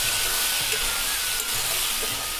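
Sliced potatoes and onion sizzle in a hot pan for a village-style mocha chingri dish, a dense, steady hiss that stays loud and unbroken from start to finish with no voices.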